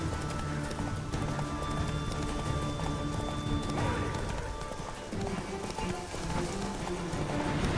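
Roach, the horse in The Witcher 3, gallops downhill with steady, rapid hoofbeats and creaking tack over a constant dense game soundscape, with a brief whinny-like cry partway through.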